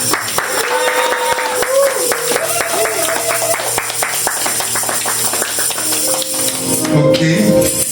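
A church congregation claps in a fast, steady rhythm of many sharp hand claps that runs the whole clip, while a voice speaks and sings over it.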